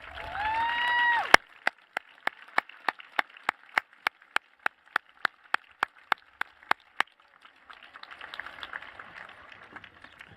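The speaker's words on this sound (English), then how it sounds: "give you a big round of applause" At a high school graduation ceremony in a stadium, a run of sharp, evenly spaced claps rings out one after another with a short echo, then gives way to a faint, spread-out crowd murmur.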